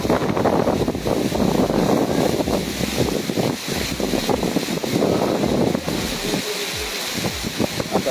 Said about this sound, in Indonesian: melaporkan kondisi cuaca deras disertai angin kencang ya, di wilayah kawasan wisata Pantai Pangandaran